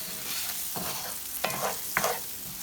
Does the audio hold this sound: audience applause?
no